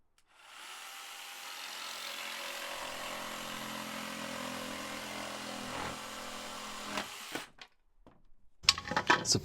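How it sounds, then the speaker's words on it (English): A jigsaw cuts through a wooden shed cladding board in one continuous, fairly close buzzing run of about seven seconds, then stops abruptly, followed by a few brief knocks and handling clatter. "get it cut with a jigsaw"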